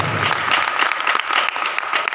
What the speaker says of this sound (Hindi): एक बार जरा जोरदार ताली ये सब के लिए बजाता है